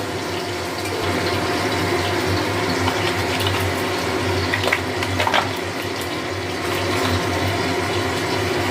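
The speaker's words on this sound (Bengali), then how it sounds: "মাশরুমগুলোকে ভালো করে ধুয়ে নিতে হবে" Tap water runs steadily in a sink while mushrooms are washed, a continuous close rush with faint splashing shifts throughout and no talking.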